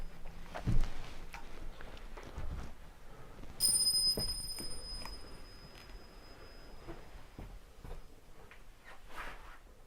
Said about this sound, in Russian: Один колокольчик сработал.